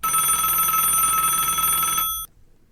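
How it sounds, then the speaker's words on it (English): A telephone rings with a bright, continuous metallic bell trill for about two seconds, loud and close, then cuts off abruptly into silence. "Maggie's phone rang."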